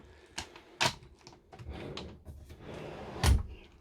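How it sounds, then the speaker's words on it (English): Drawers sliding out and clunking in a Carthago Liner for Two rear-lounge motorhome, several sharp wooden knocks and scrapes at irregular intervals, close and fairly quiet, with the last thump the loudest. "Here we've got drawers"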